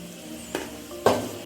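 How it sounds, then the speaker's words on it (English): Egg masala for an egg and tamarind curry frying in a pan, with a soft continuous sizzle broken by two or three sharp spoon scrapes and stirs, close by and with no talk. "And let it fry and add masala powder."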